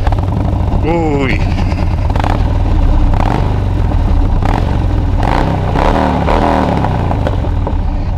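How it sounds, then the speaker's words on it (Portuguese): Motorcycle engine running loud and close, revving repeatedly with rising and falling pitch sweeps over a constant rumbling idle, while a voice calls out briefly over it. "Vou colocar só a moto a trabalhar porque vocês gostam"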